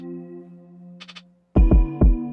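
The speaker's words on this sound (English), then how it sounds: "So with all the effects on it, the piano sample sounds like this." A lo-fi piano sample run through a Super VHS tape-style plugin with EQ and overdrive, dark warm sustained notes, then a few soft high blips and three struck chords ringing loud and wide, no talking.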